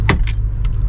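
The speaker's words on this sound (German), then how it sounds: "Ein Schlüssel." Keys jangle at close range in a sharp metallic burst, followed by a couple of softer chinks in under a second, with a low rumbling background and no talk.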